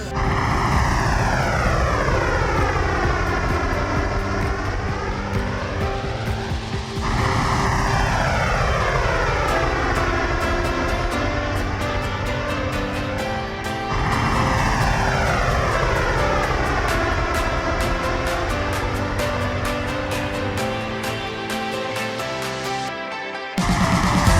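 A steady droning airliner engine roar heard inside the cabin, with sweeping tonal whines that rise and fall in repeating cycles, loud and continuous.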